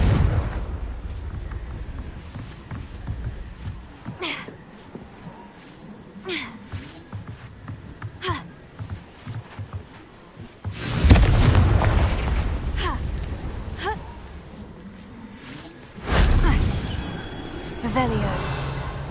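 Confringo blasting spell in the Hogwarts Legacy video game sets off heavy booming explosions, with scattered thuds and cracks early on, then two big rumbling blasts that linger and fade. Game voices speak between the impacts.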